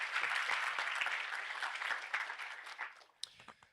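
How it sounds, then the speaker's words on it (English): A crowd applauding steadily at an online hacker meetup, dense clapping that gradually thins and fades toward the end. "Thank you for clapping."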